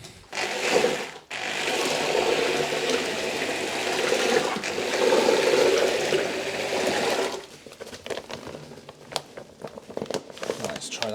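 Building material being mixed during a farmhouse renovation, a long churning, gritty whir that stops abruptly and gives way to scattered scraping and knocks.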